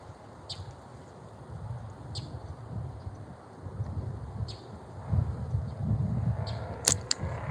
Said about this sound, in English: Daggone wind blowing me.